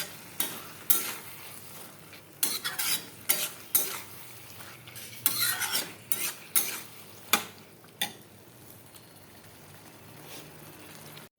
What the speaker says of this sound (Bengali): মটরশুঁটিটাও দিয়ে দিলাম। এখন ভালো করে এটা কষাবো।